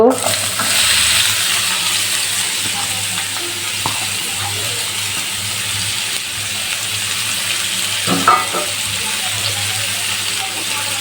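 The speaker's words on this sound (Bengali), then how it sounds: "আর একটু তেল দিয়ে দেবো এবারে হালকা ব্রাউন করে পেঁয়াজটা ভেজে নেব" Onions fry in oil with a loud, dense, continuous sizzle and crackle lasting throughout, with occasional stirring clinks and scrapes on top.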